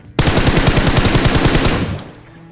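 A loud, close burst of automatic gunfire in the battle royale mobile game BGMI, one sustained rapid rattle of about a dozen shots lasting under two seconds before cutting off, with no talking.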